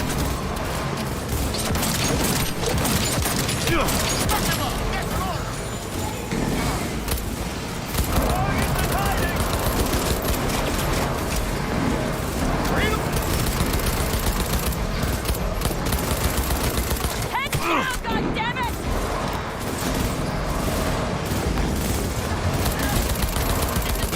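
Sustained gunfire in the video game Cyberpunk 2077, a dense, loud firefight of rapid automatic bursts and shots mixed with crashes and combat noise running throughout, with voices occasionally heard over it.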